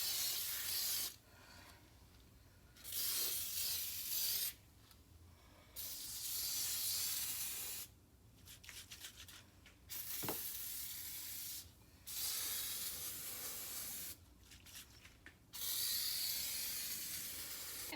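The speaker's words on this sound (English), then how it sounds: "here's my pots and pans after I sprayed them with the oven" Repeated bursts of aerosol oven cleaner sprayed onto pots and pans, each hiss lasting a second or two, separated by short pauses, close and fairly loud, with no voices.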